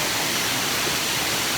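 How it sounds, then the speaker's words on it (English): Waterfall in the North Carolina mountains of Pisgah National Forest, a loud, steady, full-bodied rush of falling water with no letup. "We're at a waterfall."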